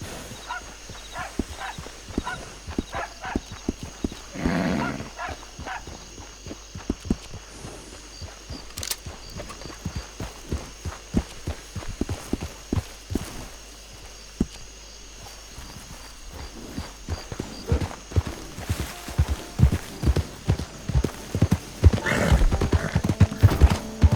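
Horse hooves clip-clop in a steady, quick rhythm during a ride in Red Dead Redemption, loud and close, with a snort or whinny and rising intensity toward the end.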